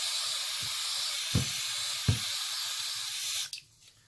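Steady hiss of brake cleaner spraying up close into drive shafts with a few faint knocks underneath, then the spray cuts off and a couple of soft clanks follow.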